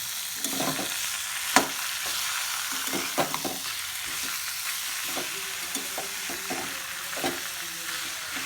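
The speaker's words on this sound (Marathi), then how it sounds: "कच्च्या कैरीचे जे चिप्स कापलेले आहेत ते संपूर्ण त्याच्यामध्ये टाकले आहेत एक शालो फ्राय करून घेणार आहोत" Raw mango chips shallow fry in a pan, giving a continuous close sizzle broken by scattered sharp clicks and spatula scrapes as they are stirred.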